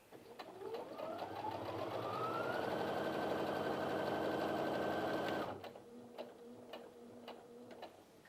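A Brother Innov-is F560 sewing machine stitches through thin denim, a steady motor whir ramping up to a fast, even run for about five seconds before stopping, followed by quiet handling ticks.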